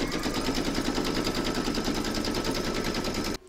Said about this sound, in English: pop that into your machine and stitch round number one